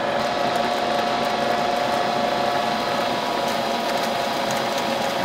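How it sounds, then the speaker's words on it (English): An electric mixer runs with a steady, continuous mechanical whir while creaming butter and sugar for lemon shortbread cookies, loud and close with no talking. "So we're gonna mix this for 1 minute until it's light and fluffy."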